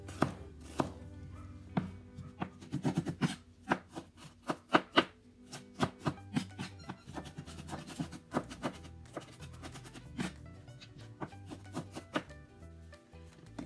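A knife finely chopping onion on a cutting board for Mexican-style calabacitas with ground beef, close and crisp, a run of quick irregular taps with bursts of faster strokes and short pauses, no voices.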